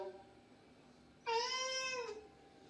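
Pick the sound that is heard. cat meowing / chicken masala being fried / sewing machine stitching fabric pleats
cat meowing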